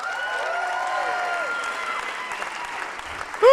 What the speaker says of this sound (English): Everybody, please give a big round of applause for Gino Fernandez.